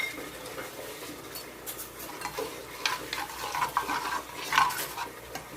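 Butter and a couple of spoons of oil sizzle softly in a pan while a utensil stirs and scrapes, with light clinks of cookware over a steady frying hiss, no voices.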